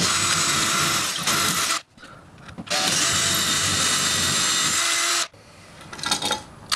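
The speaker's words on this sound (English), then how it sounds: "you can just stick the drill straight in there" A loud, harsh power drill bores into a concrete wall in two long bursts with a short pause between, then winds down into quieter scraping and handling noises.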